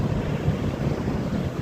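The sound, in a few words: wind at the beach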